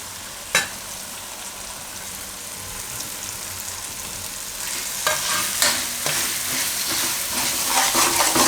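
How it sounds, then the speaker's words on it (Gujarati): Fenugreek leaves fry in an oily pan with a continuous sizzle, broken by a sharp clink early on and several scraping stirs that grow busier toward the end; no talking. "મેથીને આમાં પાકવા દઉં."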